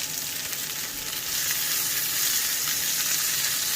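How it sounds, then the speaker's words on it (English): Scrambled eggs frying in a hot pot, a dense, steady sizzle and crackle close up, growing slightly louder as it goes on, with no talking. "I'm going to add some egg. Basically scramble eggs into the mix."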